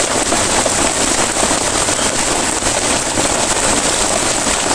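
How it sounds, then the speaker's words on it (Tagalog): Steady rain falling outdoors, a dense, continuous hiss with fine crackling spatters that stays loud and unbroken throughout, with no voices over it. "Umuulan pa"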